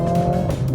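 A Mercedes A45 S AMG accelerates hard on slippery gravel, its engine roaring loud and close in a brief, steady burst.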